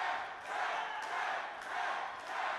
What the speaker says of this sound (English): this crowd getting behind the Rev Ron Hunt